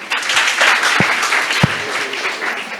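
Loud, sustained applause from an audience at a Hindi Day poetry recital, with steady clapping throughout and a couple of louder thumps standing out.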